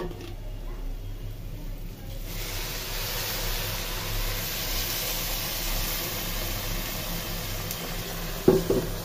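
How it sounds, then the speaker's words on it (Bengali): A steady, loud sizzling hiss fills the scene as hot water is poured into pulao rice frying in a hot pan, continuing without a break and ending with a brief clatter. "এখন আমি গরম পানি দিয়ে দিব পোলাওতে"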